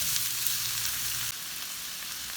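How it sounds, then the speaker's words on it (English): A continuous close sizzle of onions sautéing in a frying pan, bright and steady, with a low hum that cuts out halfway; no talking. "My onions are sauteing nicely"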